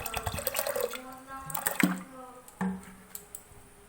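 Water is poured into a pot of soaked chana dal for a Bengali home recipe, giving splashing, gurgling pours in a few short bursts, close and moderately loud, with no talk.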